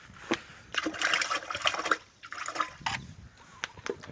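Water splashes and trickles while washing up after a soil pH test in a durian orchard, coming in uneven bursts and pauses close by, with faint talk.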